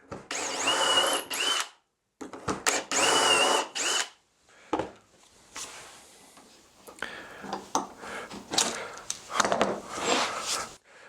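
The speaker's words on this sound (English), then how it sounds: "The first 2 holes are drilled when it's nicely clamped in place." Holes drilled into a solid cherry board held in a clamped jig: two loud, close bursts of power-drill whine, each about two seconds long, then quieter knocks, handling and intermittent drilling noise.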